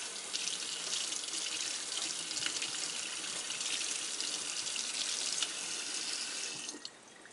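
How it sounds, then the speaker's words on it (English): Hands are washed under a running kitchen tap, a steady close rush of water that continues evenly before easing off near the end. "I'm going to wash my hand first"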